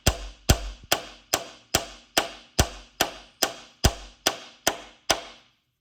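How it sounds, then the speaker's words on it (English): Hammer tapping wooden dowels into mortise and tenon joints of a teak bench, twelve sharp, evenly spaced knocks about half a second apart, close and clear with nothing else heard. "we just use a hammer to tap it in"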